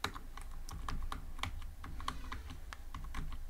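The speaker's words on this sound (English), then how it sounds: "Now I can type here a value for name, let's say Alex" Fingers type on a computer keyboard while entering Python code, a quick irregular run of light key clicks, close and fairly quiet, with no voices.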